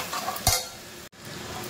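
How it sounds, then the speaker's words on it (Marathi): Stored masala spice mix with red chilli powder sautéing in oil, a steady sizzle with a brisk scrape of stirring in the pan and a brief sharp gap. "साठवणीतला मसाला आपला त्याला थोडंसं परतवायचं आहे आपल्याला."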